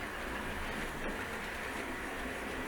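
A model railway train runs along the track on a home layout with a steady, faint rolling rumble and light rail clatter, and no voices over it.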